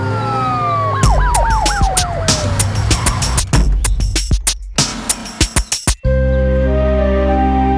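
A siren wails up and down briefly, followed by a rapid series of sharp clicks and bangs, then a steady low tone.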